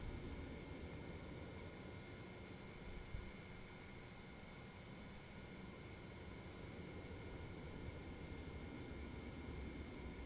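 An airliner takes off in a flight simulator on a Delta flight out of Miami, with a steady, unbroken engine roar and airflow hiss throughout and no voices.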